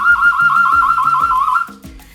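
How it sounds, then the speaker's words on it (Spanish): A homemade whistle cut from cane reed sounds a steady, shrill warbling tone for about two seconds, close and loud, with light tapping underneath, then cuts off. "otro silbato hecho con una caña."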